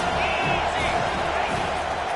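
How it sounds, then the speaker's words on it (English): A stadium crowd roars in the NCAA College Football 25 video game on a third down, a dense, steady wall of cheering that fills the whole stretch and holds under the commentator's voice. "Third down, and this crowd is tearing the lid off this place."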